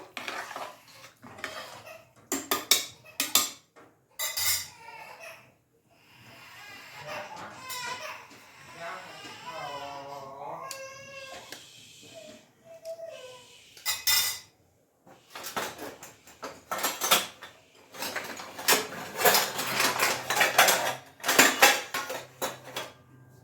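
Rice mixed in a cooking pot for a tomato rice dish, with bursts of metal clanking and scraping of a spoon against the pot. Quiet spells and some talk come between the bursts.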